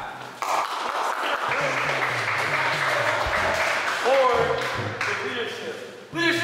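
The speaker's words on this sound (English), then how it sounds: "would you guys please give a round of applause?" An audience at a community event claps in a full, sustained round of applause that runs almost the whole time, with a brief lull and a fresh burst at the end.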